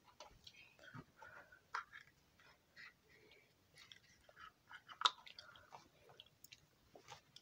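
Gum being chewed close to the mic in a quiet indoor room: soft, irregular wet smacking and clicking sounds at a low level, with one sharper click near the middle.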